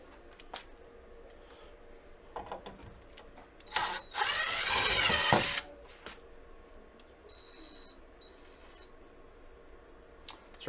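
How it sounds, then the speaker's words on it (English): A power drill whirs loudly in a short burst lasting under two seconds, boring a 13/64 hole for an emblem pin on an OBS Ford, with quieter workshop clatter and faint tones before and after. "making sure that you don't drill out a hole too big for that pin"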